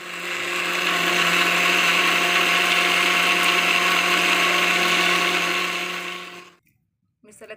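A mixer grinder jar whirs loudly and steadily, grinding green masala ingredients for about six seconds with a high motor whine, then cuts off abruptly and falls quiet.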